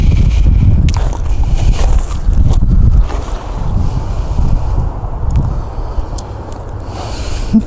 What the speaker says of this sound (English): Chilly out here today, a little windy.